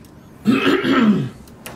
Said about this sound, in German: Hast du geräuspert?